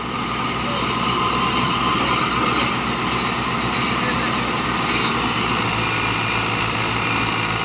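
A New Holland 480 tractor engine runs through a wheat harvest in Punjab, Pakistan, a loud, steady drone that holds constant throughout.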